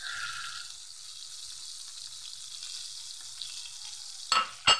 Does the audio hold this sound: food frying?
yes